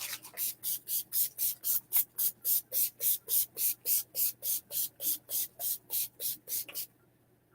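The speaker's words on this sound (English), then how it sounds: "that's my Skindinavia finishing spray" A finishing spray being misted onto the face in quick repeated pumps, over twenty short hissing bursts in a steady rhythm, close and crisp, with a low hum beneath and no talk.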